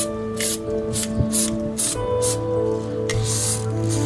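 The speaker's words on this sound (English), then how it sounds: "And another spray, just a light spray." Short bursts of silicone spray hiss onto a caravan panel, about eight quick puffs in an uneven rhythm, close and clear over a faint background hum.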